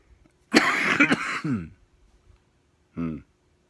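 A person with a suddenly dry throat clears it harshly in a burst of rough, voiced hacking, then gives one shorter cough-like grunt a moment later, close up, with quiet between.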